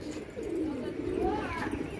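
Pigeons at a pigeon house coo in soft, low, rolling calls close by, with a faint voice murmuring underneath.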